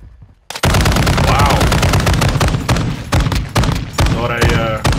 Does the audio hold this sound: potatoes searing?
no